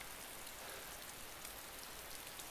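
Rain in the video game DayZ, a steady, even hiss of drops falling on surfaces that runs unbroken and without voices.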